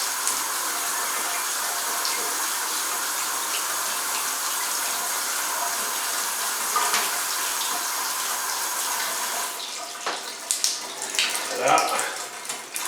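Hot water runs from a shower after its pressure has been adjusted, a steady broadband hiss of spray that continues throughout, growing more uneven and splashy near the end.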